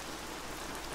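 Heavy rain falls steadily, a dense, even hiss of drops on surfaces filling the whole second without pause, close and moderately loud, with no voices.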